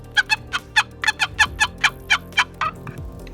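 A rapid, uneven burst of a dozen or so sharp turkey cutts scraped out on a box call, loud and close, trailing off at the end.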